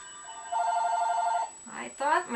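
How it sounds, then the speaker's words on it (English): A cell phone rings with a steady electronic trill for about a second, followed by a person speaking briefly nearby. "I could hear my cell phone ringing."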